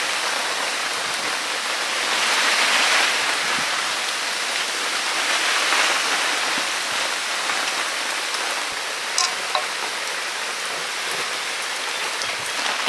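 Heavy rain from Cyclone Remal pours down steadily with gusting wind, a dense unbroken wash of drops on surfaces that swells and eases in waves, close and loud with no one talking.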